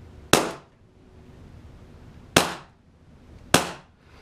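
Three suppressed air gun shots ring out as sharp, close cracks, spaced unevenly about two seconds and then one second apart, each fading quickly against quiet background.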